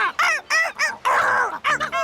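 Angry cartoon seagulls squawk in a rapid series of harsh, loud cries, close and alone with short gaps between calls.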